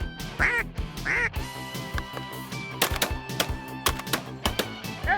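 Ducks quack during an Ontario duck hunt, with a few loud, close calls early on, followed by sharp thuds and clatter that punctuate the sounds, and no speech.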